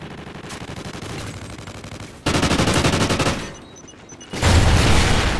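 Bursts of automatic gunfire from Call of Duty: Modern Warfare 2 (2022) multiplayer, a steady rattling stream that surges into two louder, denser volleys, close and with no talk.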